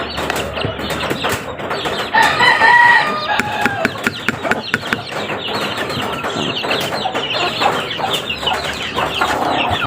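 Hens clucking and chickens calling close by, steady and busy, with a brief crow-like call partway through.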